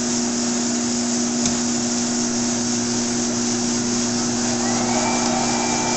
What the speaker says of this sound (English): So I'll turn the blower on.